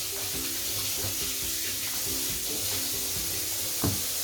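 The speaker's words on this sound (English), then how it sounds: "I'm gonna go wash my hands." Hands being washed under a running kitchen sink tap, a steady close rush of water with light splashing and a brief louder splash near the end, with no talking.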